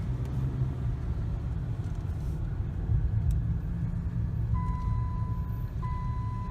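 A car engine idles low at about 600-700 rpm after a basic tune-up, a steady, even rumble with no misses running throughout, with a faint high beep tone appearing near the end.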